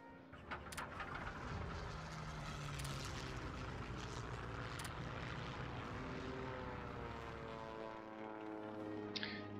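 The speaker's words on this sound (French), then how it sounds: "Tiens, il est revenu avec ses avions." Propeller aircraft in the World War II strategy game Hearts of Iron 3 drone loudly and steadily, with a dense, continuous engine roar that shifts in pitch near the end and has no talk over it.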